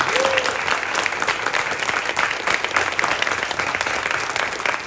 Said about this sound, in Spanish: os voy a pedir por favor un fortísimo aplauso para Peter Milligan